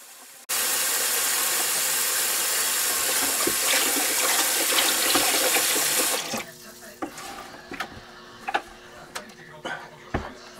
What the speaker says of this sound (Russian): Сливаем медленно воду с мелким мусором.